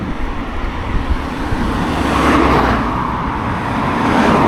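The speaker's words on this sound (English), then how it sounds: "Hopefully you can hear me above the noise of the traffic." Vehicles on the main road between Ystrad and Bargoed make a loud, continuous rushing roar, swelling as cars pass close by along the wide pathway.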